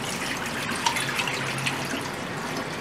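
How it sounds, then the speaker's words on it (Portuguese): Dirty aquarium water splashing and trickling steadily as it drains into a sink, a continuous close wash of liquid with a few small drips standing out, no voices. "vamos agora aqui tirar a água suja do aquário"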